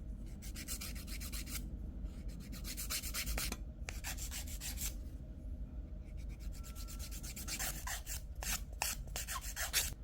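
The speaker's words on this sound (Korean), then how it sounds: "저는 쉐입을 조금 더 다듬고 능선에 샌딩 한 번 더 할 겁니다" A nail file sanding the surface of a gel nail extension, a steady close rasping rub in repeated strokes with short pauses, heard alone without talk.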